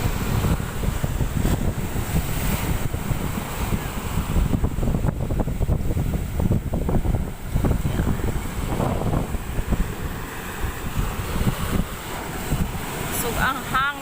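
Strong wind at a beach resort buffets the microphone with a constant low roar and gusty rumbling throughout, loud and unbroken.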